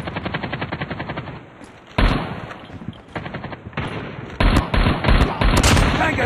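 Rapid bursts of M16 assault rifle fire in the mobile shooter Call of Duty Mobile, loud and close, with short pauses between volleys and brief game voice callouts mixed in.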